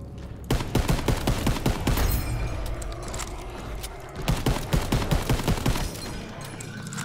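Rapid bursts of gunfire from a powerful weapon in Call of Duty WW2 Zombies, two sustained volleys of sharp repeated shots separated by a brief pause, loud and close with no talk.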